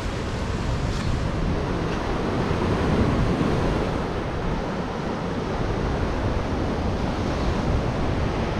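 Sea surf at Pidakan Beach in Pacitan, a loud unbroken roar of waves mixed with wind buffeting the microphone.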